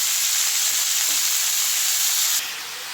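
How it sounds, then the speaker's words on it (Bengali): Chopped red amaranth leaves hitting hot oil in a frying pan, a loud continuous sizzle and hiss that drops off sharply near the end. "এবার দিয়ে দেব কেটে রাখা লাল শাকগুলো।"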